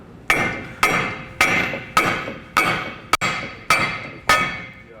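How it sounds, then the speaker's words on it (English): A hammer strikes the steering knuckle of a 2020+ GM 2500 truck in a series of nine sharp metallic blows at a steady pace, each ringing briefly before the next, loud and close. "You're gonna tap on the knuckle."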